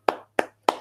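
Three sharp hand claps, evenly spaced and fairly close, each with a short ringing tail, sounding alone in a quiet room.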